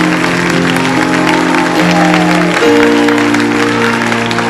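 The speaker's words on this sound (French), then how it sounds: "D'ailleurs, bon Dieu, gros applaudissement." A church congregation claps steadily and loudly, the dense applause layered over sustained organ-like music whose chords slide and change partway through.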